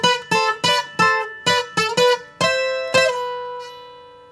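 A bright plucked requinto guitar plays a short melody of quick, evenly spaced notes, ending on a held note that rings and fades, solo and close.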